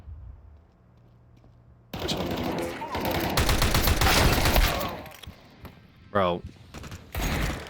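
Video game gunfire erupts in dense, rapid bursts after a quiet opening, loud and sustained like automatic fire, then breaks into shorter volleys; a voice speaks briefly and there is a whooshing effect near the end.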